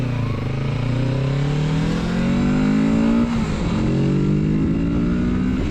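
Close-up engine note of a Kawasaki Z650RS motorcycle accelerating up a long, inclined on-ramp, pitch rising through the gears with a brief dip at a shift midway, steady and fairly loud with wind noise.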